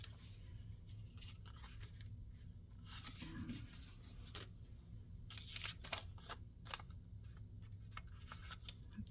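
Scissors trim a spare paper journal card for an autumn recipe junk journal, giving close, crisp snipping and crunching cuts in short irregular bursts over a soft steady room hum.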